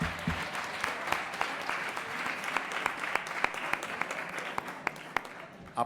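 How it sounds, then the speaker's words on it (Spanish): Applause during a session of a constituent assembly, a moderate patter of many hands clapping at some distance, with a few sharper individual claps standing out. "Aplauso a nuestros compañeros diputados que fueron solidarios con esta planilla."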